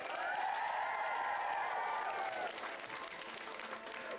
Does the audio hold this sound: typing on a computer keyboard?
no